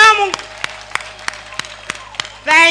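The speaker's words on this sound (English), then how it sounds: "Let's clap." A crowd at an outdoor presidential visit event in Kyegegwa, Tooro region, Uganda, applauds the First Lady with a run of rhythmic, steady claps, framed by a speaker's amplified voice at the start and end.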